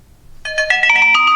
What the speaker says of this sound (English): that's the China Mobile startup sound from like 2010